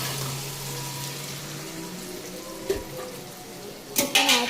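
Half a kilogram of chicken goes into a pan of onion-tomato masala for chicken thokku, giving a steady low sizzle with a few stirring knocks and a louder scrape at the end.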